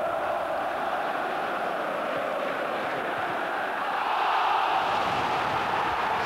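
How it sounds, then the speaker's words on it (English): A 1996 football stadium crowd at Newcastle United versus Manchester United bellows for a handball: a steady, distant roar of many voices that swells louder toward the end. "the crowd was bellowing for handball"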